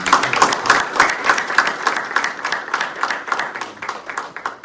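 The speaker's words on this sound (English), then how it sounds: "Let's give these guys a round of applause." An audience at a business talk on deal funding claps, many hands beating in a steady, moderately loud ripple that tapers slightly toward the end.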